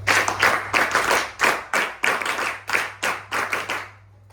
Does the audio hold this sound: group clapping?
yes